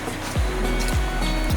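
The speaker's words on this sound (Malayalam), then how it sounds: "ഈ സൈഡിൽ പ്ലാന്റേഷനും ഇപ്പുറത്തെ സൈഡിൽ നമ്മുടെ ആ ഒരു അരുവിയും കൂടെ ഒഴുകുന്നുണ്ട്." Water from the Peppara stream flows beside a forest trail near the Vazhvanthol waterfalls in Trivandrum, a steady rushing wash broken by a few soft low thumps, close and fairly loud.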